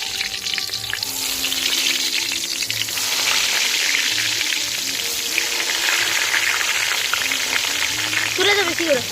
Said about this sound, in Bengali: এই যে দেখো পটল ভাজা হচ্ছে